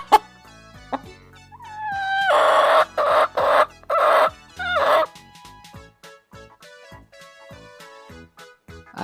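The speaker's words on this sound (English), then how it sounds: "H for hen." Hen clucking and a rooster crowing in a children's alphabet song: a run of loud, close clucks and calls in a middle burst, framed by sparse plucked music.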